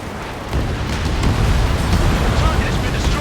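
A big explosion as a destroyed target blows apart in Ace Combat 7, a loud sustained rumbling blast over dense combat noise.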